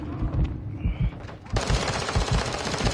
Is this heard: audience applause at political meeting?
no